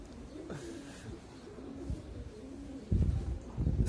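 Domestic pigeons coo in soft, repeated throaty calls close by, with light rustling and a louder burst of movement near the end, and no voices.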